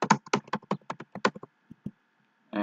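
Rapid computer keyboard typing while entering a name into a form, a quick burst of close, distinct key clicks that slows to a few last taps before a short sound at the end.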